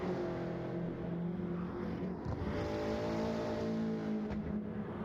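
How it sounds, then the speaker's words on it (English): Touring cars racing side by side in a sim racing game, engines droning steadily and loudly throughout with layered harmonic tones and no speech. "He's still having a drag race, side by side."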